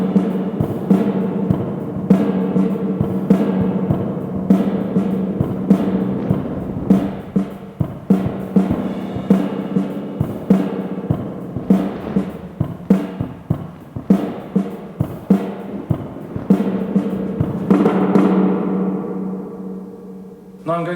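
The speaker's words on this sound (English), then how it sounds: "First, let's listen to some drums." Drum samples played through a spring reverb, a run of punchy hits with a splashy metallic wash trailing each one and a ringing tail fading out near the end.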